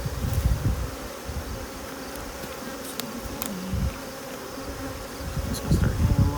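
Honeybees drone steadily around hives being treated and moved, a close, continuous buzz that swells and fades as insects pass, with a few soft knocks of handling.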